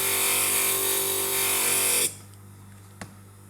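A stained glass grinder's spinning head grinds glass with a steady, close electric whine and hum that cuts off abruptly after about two seconds. A single sharp click follows in the near quiet.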